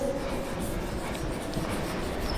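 Steady scratchy strokes of writing on a board, a continuous close rasp with no pauses and no talk.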